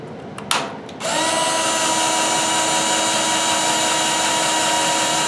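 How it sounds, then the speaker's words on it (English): A power drill bores through stainless steel while fitting a HERMS coil for an electric brewing rig, starting with a few short bursts before settling into a loud, steady, high-pitched whine that holds alone to the end. "Stainless steel, you want to try to go as slow as you possibly can, but still cut, because it will burn up your drill bit in a heartbeat."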